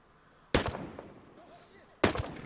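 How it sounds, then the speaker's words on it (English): Two sharp, loud rifle shots fired with high-end ammo in Ghost Recon Breakpoint, spaced about a second and a half apart, each with a short echoing tail over quiet ambience. "I wonder if I shoot this guy in the chest with this high-end ammo"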